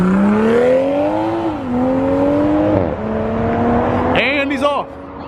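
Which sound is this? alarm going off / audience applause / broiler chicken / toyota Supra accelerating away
toyota Supra accelerating away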